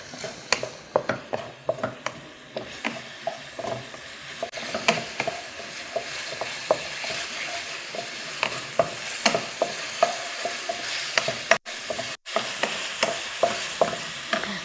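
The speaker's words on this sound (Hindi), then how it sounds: "और हम इसको फ्राई कर लेंगे।" Snacks fry with garam masala and black pepper in a pan, a continuous sizzle under a regular rhythm of spoon strokes and scrapes that pause briefly near the end.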